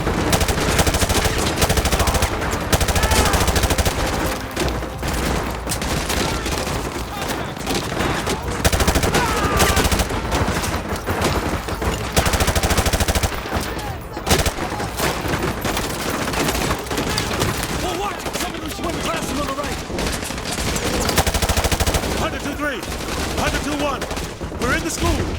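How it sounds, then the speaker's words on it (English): Dense gunfire in the video game Call of Duty Modern Warfare 2, an urban firefight at a school: loud, nearly continuous automatic bursts and shots with battle noise throughout. "We're taking heavy fire from the school."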